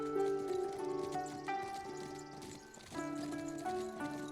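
Horse hooves clip-clop faintly in the Legends of the Round Table game, a soft rhythmic trot under a sustained musical backdrop with a brief dip midway.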